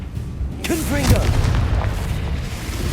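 A Confringo blasting spell in Hogwarts Legacy goes off as a loud, deep boom right after a shouted voice, its rumbling blast filling the rest of the moment up close.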